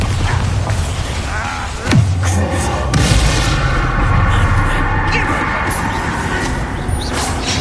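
The Bombarda spell explodes in Hogwarts Legacy with a sharp booming blast, then a second impact a moment later, over continuous game ambience and effects.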